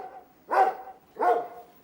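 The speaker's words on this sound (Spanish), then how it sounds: "sácame ya ese perro de aquí" A dog gives two loud, close barks about three-quarters of a second apart, each a sharp, full bow-wow, with a faint steady hum underneath and no talking.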